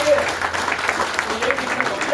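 Audience at a company annual meeting in Srinagar, Kashmir, clapping steadily, a dense and moderately loud patter that continues without pause, with a voice faintly audible beneath it.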